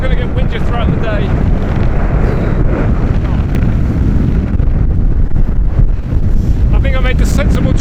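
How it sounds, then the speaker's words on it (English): Strong wind buffets the microphone on a mountain walk in the hills above the Linn of Dee, a constant loud roar and rumble throughout with no pauses. "It's getting windier."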